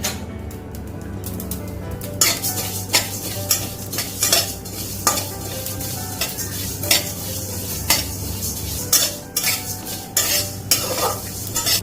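Whole spices, cumin, fennel, five-spice mix and mustard seeds, dry-roast in a pan for mango pickle, with a soft sizzle beneath repeated sharp scrapes and clinks of a spoon stirring against the metal.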